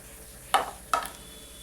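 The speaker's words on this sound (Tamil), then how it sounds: "இப்போ நம்ம கட் பண்ணி வச்சுருக்கிற ப்ரெட்டை சேர்த்துடலாம்" Cut bread goes into a pan of egg masala: two short, distinct scraping or dropping sounds over a faint background hiss, each followed by a brief soft sizzle.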